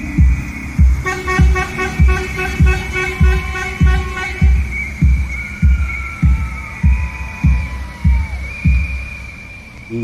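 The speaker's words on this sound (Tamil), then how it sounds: "அதாவது ஆங்கிலத்தில் ஹார்ன் அப்படின்னு சொல்கிறோம்ல, அது அடிக்கவே கூடாது, சட்டப்படி அது ஒரு குற்றம்." Graduation vehicle in Denmark honking its horn, a repeated rhythmic melody of short toots over a steady thumping beat, loud and close, with a voice briefly audible.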